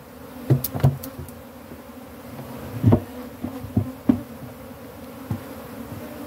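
Honeybees buzz steadily around a hive being split, the drone close and continuous, with several sharper knocks and thumps of hive equipment scattered through it.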